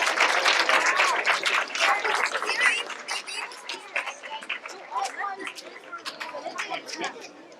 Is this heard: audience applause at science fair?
yes